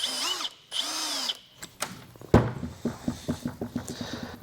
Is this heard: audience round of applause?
no